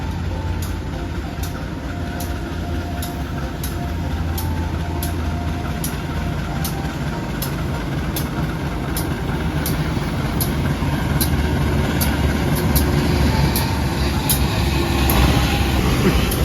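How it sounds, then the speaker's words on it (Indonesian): A CC 201 diesel locomotive rumbles steadily with a low engine drone throughout, with faint regular clicks over the continuous noise. "Lokomotifnya pakai CC 201."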